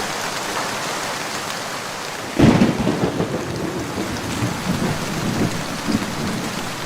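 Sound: heavy rain with thunder in a cartoon

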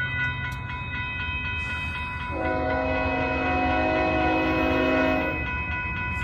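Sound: Amtrak passenger train horn

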